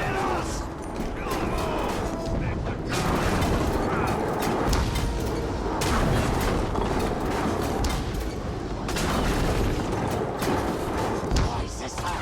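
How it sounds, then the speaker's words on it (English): In the video game Middle-earth: Shadow of War, a beast fires at the player: repeated heavy booms and mechanical crashes over a dense, loud battle din, with voices speaking throughout. "That dumb beast is shooting at us!"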